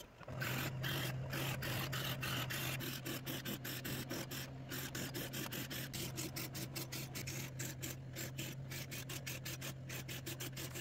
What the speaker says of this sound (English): now I'm just going to drill a ton of holes with all my different bits that I made